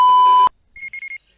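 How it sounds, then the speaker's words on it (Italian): An electronic alarm in a Dragon Ball cartoon starts with a sustained loud tone that cuts off abruptly, then after a brief pause gives a quick run of four short high-pitched beeps. "Ma che strana, perché sta suonando l'allarme?"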